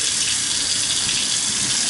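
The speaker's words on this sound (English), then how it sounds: "There's good water pressure, drains nicely." Steady, strong stream of water running from a stainless steel kitchen sink faucet with good pressure, a continuous close hiss and splash with no talk.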